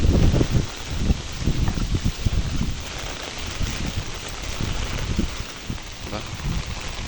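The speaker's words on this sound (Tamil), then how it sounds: "சரியான காற்றும் தொடர்ச்சியாகவும் மழை பெய்து கொண்டிருக்குது" Strong wind and continuous rain during a storm, a steady broadband roar with gusty rumbling buffeting the microphone throughout, fairly loud and unbroken.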